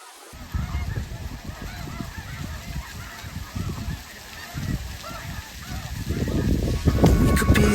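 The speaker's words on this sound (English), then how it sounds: "Check out all these white birds. I think they might be cranes or some sort of other bird." A flock of white birds calls outdoors in New Mexico. Loud, overlapping honking cries go on without a break and build toward the end, with no voices.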